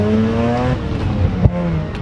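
A Mazda RX-8 with a 1.3-liter rotary engine drones nearby, then lets out a single sharp backfire pop before the engine note carries on.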